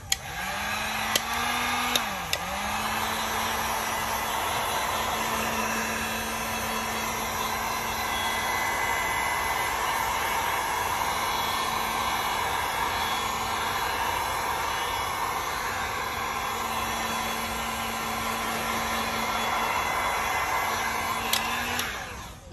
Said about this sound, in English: so I'm gonna put my heat gun on low